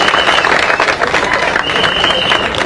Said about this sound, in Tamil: உங்க பலத்த கரகோஷம் ப்ளீஸ்